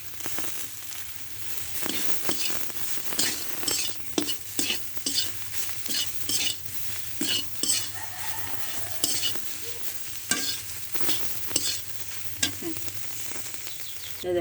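Soybeans fry in a pan with turmeric, a steady sizzle broken by repeated clattering scrapes of a spatula stirring against the metal, close and fairly loud.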